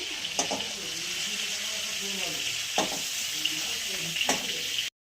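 Shrimp for a Bengali prawn curry, already coated in turmeric, go into hot oil and sizzle steadily close by, with a few sharp crackling bursts as the pan is stirred, and no talking.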